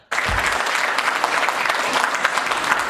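An audience at a school stage play of the Ramayan performed by children breaks into loud, sustained applause, a dense wash of clapping that starts abruptly and continues steadily without letting up.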